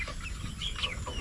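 Native chickens clucking in a short burst of a few close, chattering calls over faint background noise.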